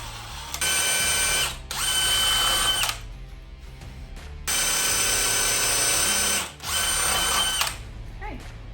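Two long bursts from a drill boring through wood with a 3/8 spade bit, each a loud, steady whine, separated by quieter pauses with faint handling noise.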